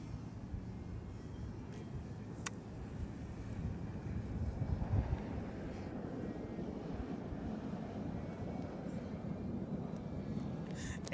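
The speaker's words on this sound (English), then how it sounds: "The wind is coming exactly from where the sun is pointing." Steady wind rushes and buffets against the microphone during an FPV drone flight outdoors, a low, constant roar with no talk.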